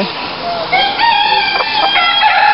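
A bantam rooster crows loudly and close by at an animal park, one drawn-out call rising and breaking into several strained notes.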